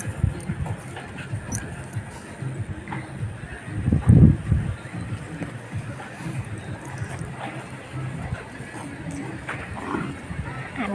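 A dog at play gives soft whimpers and yips in a lively outdoor scene, with a louder burst of activity midway, under steady background noise and occasional faint voices.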